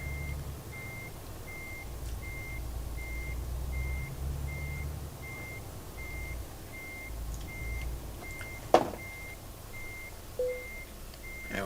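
A truck reversing in Euro Truck Simulator 2, with regular evenly spaced reversing beeps over a low steady engine rumble, plus a brief thump and a faint short tone near the end.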